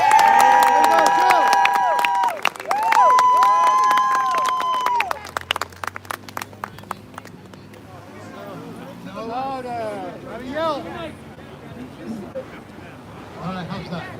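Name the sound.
crowd applauding and cheering at rally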